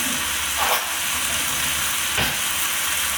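Butter melting in a pan, a steady loud hiss and sizzle throughout, with a couple of brief swells of bubbling.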